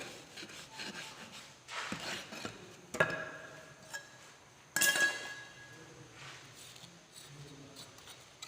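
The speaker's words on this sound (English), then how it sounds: "with the help of the strike-off bar, I am removing the excess sand from the mold" A strike-off bar drags across the top of a foundry cope box, scraping excess molding sand off the mold in rough, uneven rasping strokes with a few sharper scrapes and knocks, close and alone with no talk.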